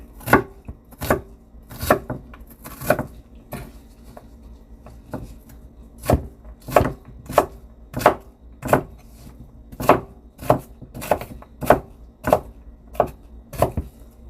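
A knife slices through an onion on a cutting board in a steady series of sharp, close chops, roughly one or two per second, with no talking.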